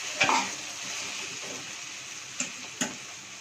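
Beaten eggs sizzle in a pan of vankayi (brinjal) curry, a steady soft frying hiss broken by a few sharp clicks from a stirring utensil.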